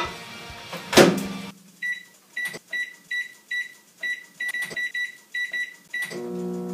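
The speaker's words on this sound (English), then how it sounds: "I'm just going to put this bowl in the microwave." A microwave oven heating a bowl of cheese in a home kitchen: one loud knock, then a steady series of short electronic beeps, and finally the low running hum of the oven starting.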